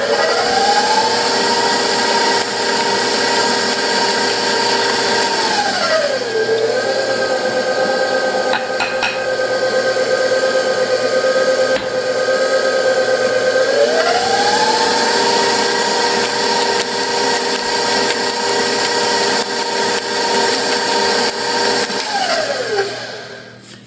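An electric mixer stirs pumpkin bar batter with flour, a steady, loud motor whir that drops lower in pitch around the middle and then rises again, with no talking.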